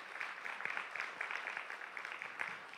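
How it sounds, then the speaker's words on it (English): A crowd's steady round of applause for the staff at a Paws to Give Thanks 2023 animal-community gathering, dense clapping sustained at moderate level throughout without a break. "Please give them a round of applause."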